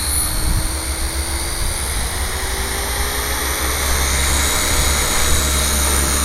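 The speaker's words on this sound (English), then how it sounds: "I've just flicked it straight to idle up 3, and it'll just spool up really nicely." A Gaui 550 RC helicopter's electric motor and rotors spool up to a steady, loud whine with an even whooshing hum, heard close by and alone.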